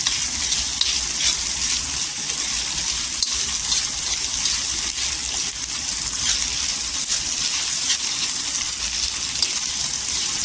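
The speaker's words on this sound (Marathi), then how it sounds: "छान असं परतून घ्यायचं तेलावर." Onion and green chilli fry in hot oil in a steady, dense sizzle that runs loud and close without pause.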